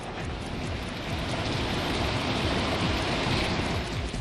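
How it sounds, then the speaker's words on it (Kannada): Heavy rain pours down across Davanagere city in a dense, unbroken roar of hiss that stays loud and even throughout, with no voices. "ದಾವಣಗೆರೆ ನಗರದಾದ್ಯಂತ ಭರ್ಜರಿ ಮಳೆಯಾಗಿದೆ."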